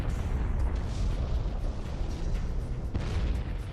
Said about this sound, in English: the heaviest elements, iron and above, were produced by the explosions themselves,